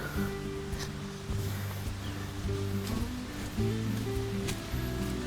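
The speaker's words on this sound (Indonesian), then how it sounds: "Ini terdengar suara gemercik air." A babbling stream flows beside a hiking trail, a steady wash of gurgling water noise throughout with faint tonal hums mixed in, no voices.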